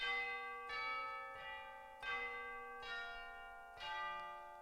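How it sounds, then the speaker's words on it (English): Tubular bells, a tuned percussion instrument, struck about five times at a steady, unhurried pace, each ringing strike leaving a bright, sustained metallic tone that overlaps the next. "Next in line, tubular bells, so some tuned percussion."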